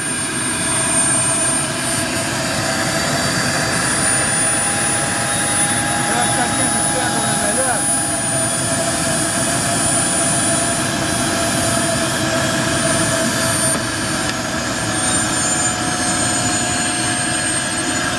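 Xavante jet engine running steadily during an adjustment and test run, a loud continuous roar with a high whine on top, close by and unbroken for the whole stretch, with no voices over it.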